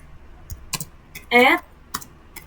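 Scattered single keystrokes tap on a computer keyboard as an IP address is typed in, a few sparse clicks and one short burst, with speech in the pauses.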